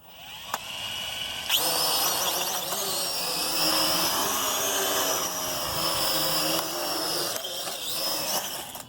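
A Venom Pro GPS streaming drone spins up its motors and lifts off in a side yard, a loud, steady, high buzzing whine that holds continuously after a sudden start.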